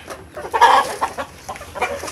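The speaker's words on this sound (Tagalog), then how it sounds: "Manok ng aking kuya." Chickens clucking close by, newly arrived birds from Guihulngan, a busy run of short overlapping clucks and calls over a quiet farmyard background.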